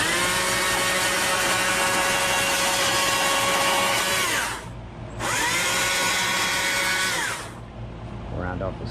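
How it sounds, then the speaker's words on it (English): A die grinder smooths a chainsaw-carved wooden owl, its loud high whine running steadily, cutting out briefly, then screaming again before winding down. "get the die grinder and whatever, it'll clean all that up"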